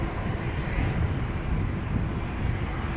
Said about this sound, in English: Aer Lingus A330 in the background.